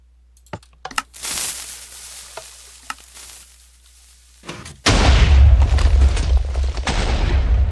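A Minecraft TNT hybrid cannon fires and detonates: after quiet clicking, a heavy explosive blast bursts in and turns into a loud, sustained rumble that lasts to the end.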